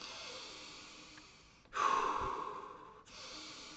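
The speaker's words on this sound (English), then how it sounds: "Essentially, you just take 5 big breaths, right? Big active breaths." A person taking big, active breaths: a long soft exhale, then a sharp, loud inhale that tapers off, followed by another breath starting, close and clear.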